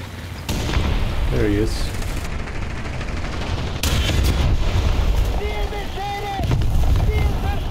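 Heavy booming blasts of a long tank gun in War Thunder, where the player drives a Brummbar, a few loud shots over rumbling battlefield noise and engine drone, with someone speaking briefly.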